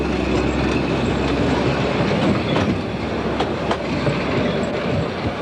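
Train on Hungary's Pioneer Railway rolling along, a continuous close rumble of wagons with rhythmic clickety-clack wheel beats and faint squealing, loud and steady with no voices.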